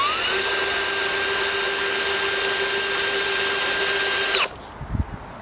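A SPESYN handheld drill on its lowest setting drives a bolt with a steady, loud, high whine for over four seconds, then cuts off abruptly, leaving a few soft knocks and handling sounds.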